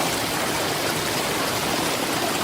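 River water flows in a steady, loud, continuous rush with no pauses and no voices.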